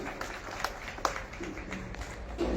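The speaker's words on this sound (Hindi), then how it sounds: "एक बार जोरदार तालियां हो जाए" Fairly faint, diffuse crowd applause at a Parwarish birthday event, an even wash of clapping with a few sharper claps standing out.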